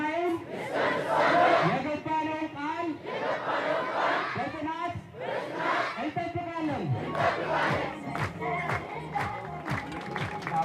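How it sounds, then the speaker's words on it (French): A large crowd chants the same slogans over and over at a rally tied to a dam on the Nile, loud and continuous, with rhythmic swelling voices and some cheering mixed in. "Pour chauffer la foule, on répète les mêmes incantations"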